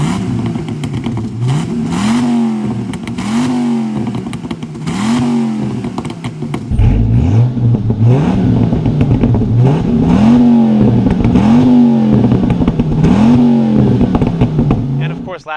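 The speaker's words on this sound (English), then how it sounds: "the huge tailpipe coming from the exhaust, which sounds wonderful" The exhaust of a 2006 Dodge Ram SRT-10 pickup truck revs again and again in loud, deep, rising and falling pulls through a big tailpipe, close by, with a voice talking over part of it.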